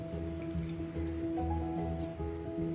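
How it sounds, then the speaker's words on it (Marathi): Water drips and trickles from freshly washed rice resting in a strainer, soft irregular drops over a steady low background hum. "धुवून मी असं गाळणीने असं थोडंसं हे गळत ठेवले आहे याच्यातलं पाणी"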